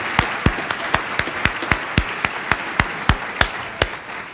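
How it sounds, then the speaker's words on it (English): Sparse, sharp hand claps from a small group at a Special Olympics Virginia awards celebration, about a dozen distinct slaps spaced irregularly over a few seconds, fading toward the end. "Give these guys a round of applause and these ladies a round of applause."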